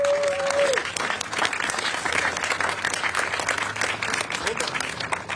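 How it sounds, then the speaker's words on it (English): A large crowd applauds at a San Francisco rally for immigrant communities: dense, sustained clapping with scattered cheers, and a brief whistle near the start. "I'd like to ask all of you to please give a round of applause to our Chief"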